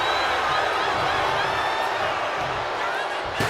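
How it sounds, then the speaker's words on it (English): Capacity crowd at a wrestling video game event, booing loudly as a broad, steady roar that fills the clip from start to finish, with a brief surge near the end. "You can hear this capacity crowd absolutely booing."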